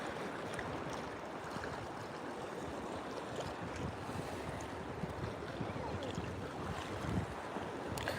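Ocean waves wash steadily onto a beach where people are fishing, a continuous loud roar of surf mixed with rushing wind buffeting the microphone, with no talk.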